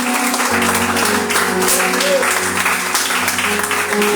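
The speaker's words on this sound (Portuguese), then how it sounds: "Aplauda Jesus o mais forte que você puder" An evangelical church congregation applauds loudly during a family service, steady clapping filling the room over sustained organ or keyboard chords, with voices mixed in.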